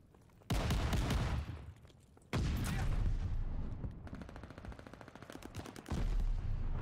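Gunfire in Call of Duty Vanguard multiplayer: loud bursts of rapid automatic shots in several volleys with short gaps, close and punchy, with no talking.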